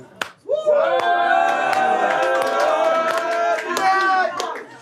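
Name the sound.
audience applauding at a rap battle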